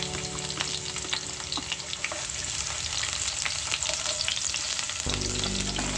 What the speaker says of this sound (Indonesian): setelah minyaknya benar-benar panas, langsung masukkan ya bawang merah dan bawang putihnya